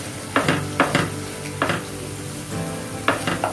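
Green chilies and tomatoes cook in a pan with a steady low sizzle, broken by several sharp clinks of a spoon stirring against the metal, close and without talk.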